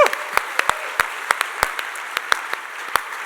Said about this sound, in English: I want everybody to say thank you and give you a round of applause.